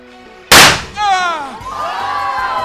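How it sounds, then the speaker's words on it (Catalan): A firecracker goes off indoors in a house during a midsummer-eve celebration, one sharp loud bang followed by a ringing, sweeping whistle-like tail and room echo that fades over a couple of seconds. "Encendre petards dins de casa és una imprudència."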